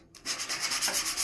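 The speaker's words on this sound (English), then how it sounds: "And we'll use it as a sanding block" Filler on a metal surface is sanded with a block of cut-down 3/8 inch cast acrylic, a close, steady rhythmic scraping of back-and-forth strokes.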